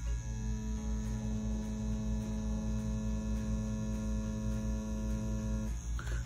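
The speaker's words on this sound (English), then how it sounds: "XNET Elite right here, wireless tattoo machine in action" An XNET Elite wireless tattoo machine runs steadily at about 7.5 volts, giving a continuous close electric hum with a faint rhythmic pulsing, stopping just before the end.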